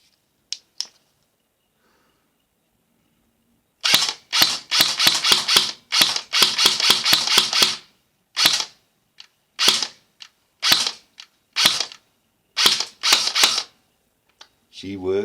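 A Nuprol airsoft gun, freshly repaired at its cut-off lever, fires BBs in sharp, loud cracks: two isolated shots, then a rapid burst followed by irregular single shots spaced apart.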